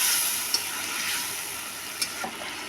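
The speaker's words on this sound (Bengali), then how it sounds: "এর মধ্যে আমি এবার ভেজে রাখা মাংসগুলা দিয়ে দিব, একটু কষিয়ে নেব।" Fried chicken pieces sautéing with taro in a pan, a soft continuous sizzle with a couple of faint stirring clicks.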